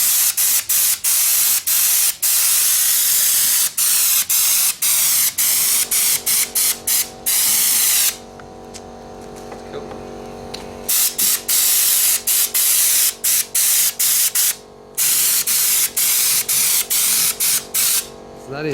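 Repeated short bursts of spray as a coat of finish goes over glued wooden furniture outdoors, a steady rhythm of hissy blasts with brief gaps and one longer pause.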